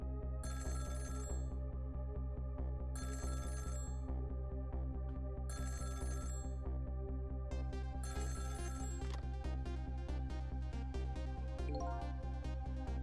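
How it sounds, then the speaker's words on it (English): A telephone rings in the video game Ghost Trick, repeated bright electronic ring bursts at regular intervals over a steady, looping game music bed, with denser chiming near the end. "About 2 hours before dawn, the phone rang."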